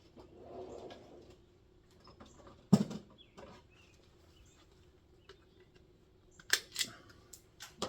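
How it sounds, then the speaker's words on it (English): A packaging strap is snipped off a set of Icon Flex ratchets: one sharp close cut followed later by a few quieter clicks and handling rustles in an otherwise quiet room. "Let me cut the strap off."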